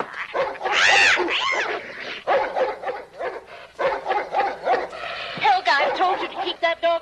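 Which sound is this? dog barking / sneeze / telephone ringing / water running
dog barking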